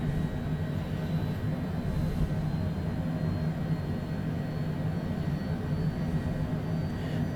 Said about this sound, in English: Looks like we've got a good start on the left engine.